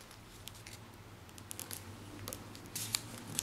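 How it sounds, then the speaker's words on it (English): Square origami paper being folded edge-to-center for a 3D modular spider, heard as faint crisp rustles and scratchy creasing sounds, growing slightly louder toward the end over a low background hum. "We're going to fold this edge to the center."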